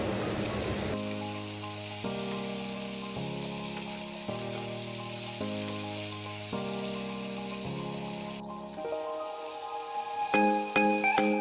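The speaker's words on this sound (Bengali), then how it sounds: "অনেকটাই ভাজা হয়ে এসেছে মিষ্টি কুমড়োটা" Pumpkin frying in a pan gives a soft, continuous sizzle, largely covered by louder background music playing throughout.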